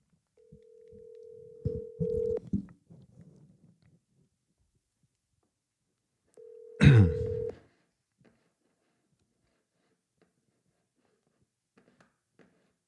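A phone call being placed, with a steady electronic tone and dialing pulses followed by a second burst of ringing tone a few seconds later, then near silence; no one speaks.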